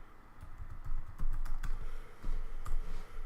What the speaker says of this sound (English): type in the new root password